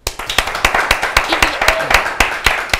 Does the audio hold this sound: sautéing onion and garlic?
no